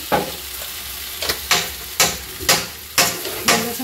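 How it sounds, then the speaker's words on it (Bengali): A spatula stirs a spice paste with coconut milk in a hot pan for a vegetarian potato dish. About eight scraping strokes land close and loud, roughly every half second, over a steady sizzle. "নারকেলের দুধটা দিয়ে একটু খানিকটা কষিয়ে নেবো"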